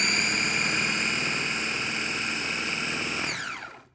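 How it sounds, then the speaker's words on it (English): A KitchenAid 3.5 cup food chopper runs on its chop setting with a loud, steady high-pitched motor whine close by, then spins down and cuts off at the end. "Pick your chopper, your puree, make sure everything's locked and aligned, and you just push the button."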